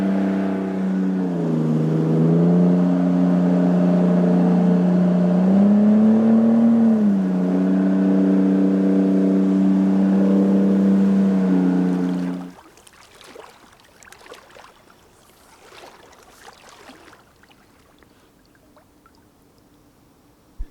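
A steady, loud motorboat engine drone with a wavering pitch runs for about twelve seconds on a river in Alaska, then cuts out, leaving quiet splashes and faint rustling.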